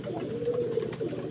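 Quality pigeons give a short, steady, low cooing call close by, heard alone for just over a second.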